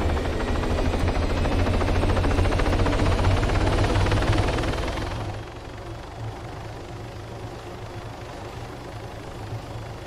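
A helicopter in a video game roars loudly with a fast rotor chop for about five seconds, then drops to a softer, steady engine drone.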